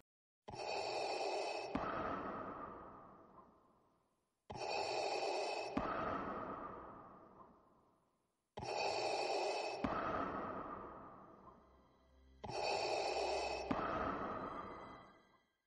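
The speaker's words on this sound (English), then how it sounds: "just clips of the film with the sound of Vader breathing" Darth Vader's mechanical respirator breathing from an Attack of the Clones trailer, four slow, loud inhale-exhale cycles with a hissing, rasping tone, evenly spaced about four seconds apart, alone with no dialogue.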